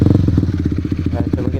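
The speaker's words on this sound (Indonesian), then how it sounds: "suara knalpot. Kita coba lagi." A Honda CB150R motorcycle fitted with a Pro Liner TR-1 carbon long exhaust idles close by with a loud, deep, steady pulsing burble.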